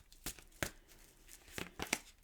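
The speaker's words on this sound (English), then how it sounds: "I'm going to shuffle and deal you an Angel Oracle card." Angel Oracle cards being shuffled by hand: a few short, crisp riffling and snapping bursts spaced irregularly, close and fairly quiet, with no talking.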